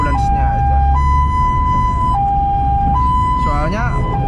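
An ambulance siren wails close and loud in long, steady alternating tones, with traffic rumble underneath.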